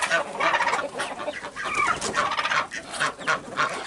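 Hens clucking and squawking close by in a farmyard among Muscovy ducks, a busy overlapping chorus of bird calls with no pauses.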